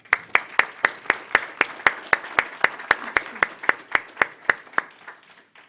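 Slow, evenly spaced hand claps at a university book presentation, about twenty sharp distinct claps in steady rhythm that thin out and fade near the end.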